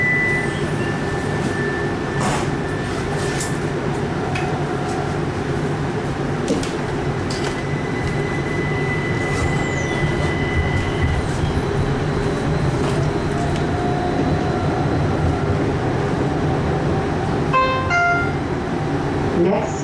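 Interior ride aboard a Tacoma Link light rail Brookville Liberty NXT 2002 streetcar running inbound toward Tacoma Dome: a steady, continuous rumble of motor and wheels fills the cabin throughout, with a few faint higher tones and clicks over it.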